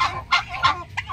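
A chicken clucks in short bursts, about four quick calls spaced unevenly, close and clear.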